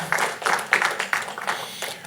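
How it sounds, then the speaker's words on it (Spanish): A church congregation breaks into applause for the Lord at a service, with a steady run of rhythmic claps, moderately close and fairly loud, and no talk over it. "Un fuerte aplauso al Señor, por favor."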